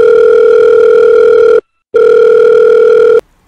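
A loud, steady telephone tone sounds during a call being placed, held for over a second, then cut off by a short silence, resumed, and stopped again.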